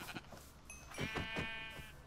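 Sheep in the Minecraft video game bleat several times in short wavering calls, faint and alone with no talk over them.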